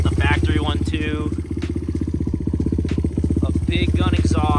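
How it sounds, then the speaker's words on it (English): A dirt bike fitted with a Big Gun aftermarket exhaust runs close by with a loud, throaty, pulsing engine note that holds steady, while a voice talks over it. "A big gun exhaust. Don't know what that is. Sounds pretty good though."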